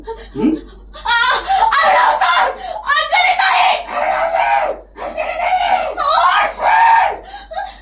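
In a tense television drama scene, a woman lets out loud, shrill, repeated screams in several long bursts separated by brief breaks, close and dominating throughout.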